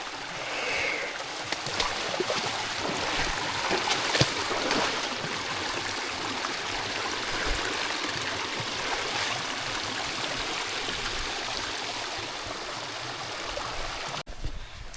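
A forest stream in the Sri Lankan hills flows in a steady, close, full rushing wash that stays even and unbroken throughout, with a brief dip right at the end; no voices are heard.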